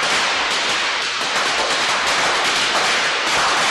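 Firecrackers are set off on a Thai TV drama set to mimic gunfire, producing a dense, continuous crackling roar of sharp pops that stays loud and steady throughout.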